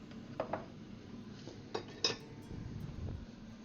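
Salad tossed in a bowl beside a freshly made potato omelette, giving a few sharp utensil clinks and soft scrapes against a quiet background.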